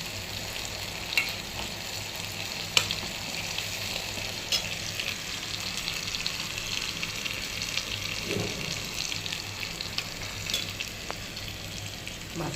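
Green chili, coriander leaves and bay leaf frying in hot oil with a steady close sizzle and occasional stirring clinks, no talking.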